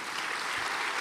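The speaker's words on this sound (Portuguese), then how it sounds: "Aplauda o Senhor." Brief, steady wash of applause from a church congregation praising during a service, dense and even with no distinct claps standing out.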